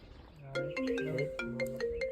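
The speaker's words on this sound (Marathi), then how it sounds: "तिच्याचा फोन आला." A phone ringtone plays a short bright melodic phrase of chiming notes, clear and close, with no talking.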